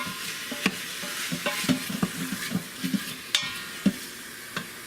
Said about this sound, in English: Now we're just gonna sit there and lightly sear the beef brisket up